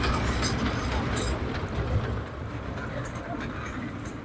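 Dragon-themed amusement train ride at a lake park, a steady rumbling roll with broadband clatter and crowd murmur, fairly loud and continuous, easing slightly midway.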